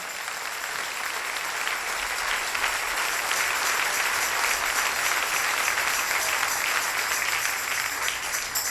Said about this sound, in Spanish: Dele ese aplauso al Rey